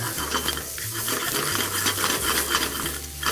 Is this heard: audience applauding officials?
no